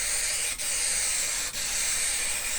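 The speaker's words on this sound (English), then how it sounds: "I'm going to prep this with a good coat of high strength spray adhesive to both parts of the seat" High strength spray adhesive hisses steadily from an aerosol can onto a Land Rover seat and its foam, a loud close spray broken by two very brief pauses.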